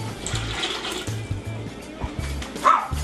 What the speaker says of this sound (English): I actually think I'm going to go ahead and add a couple cups more water.